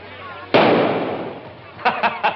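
Gunshots ring out at close range, one loud sharp crack followed by a decaying tail, then three quicker reports in a row, coming just after speech in an old 1941 film soundtrack.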